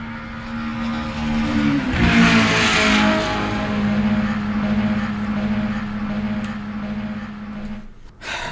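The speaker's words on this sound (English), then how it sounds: "It's a car. It makes that noise, Darren" A car engine revs and holds a steady droning pitch, loud and close, with a surge of rushing noise early on before the sound cuts off abruptly near the end.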